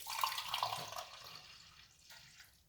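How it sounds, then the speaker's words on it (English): Liquid poured into a glass while preparing a morning drink, a steady splashing stream for about two seconds that tapers off, close and fairly quiet with no talk. "let's pour this inside of it"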